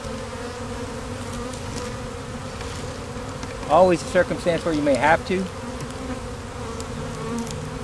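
A steady, close buzz of a honey bee swarm drones throughout while a person speaks briefly in the middle, the humming continuing evenly beneath and after the voice.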